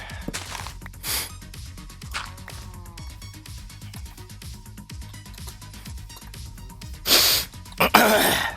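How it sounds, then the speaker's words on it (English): A single sharp sneeze bursts out near the end, following scattered breaths and throat noises in an otherwise quiet room. "There's a sneeze."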